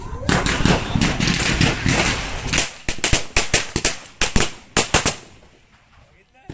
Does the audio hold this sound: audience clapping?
no